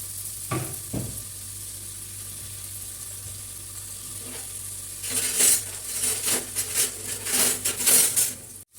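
Onions frying in coconut or sunflower oil for a green mutton masala: a soft sizzle builds into a louder crackle, with scattered clinks and scrapes of a utensil against the pan.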